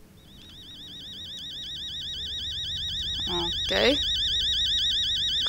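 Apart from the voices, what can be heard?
alarm clock ringing in the video game Fears to Fathom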